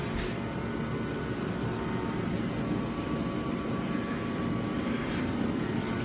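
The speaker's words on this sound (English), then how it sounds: "Heater seems to be working all right today." A diesel heater runs steadily in a hot rod workshop, giving a continuous close blowing roar with a low rumble that holds level throughout, no voices.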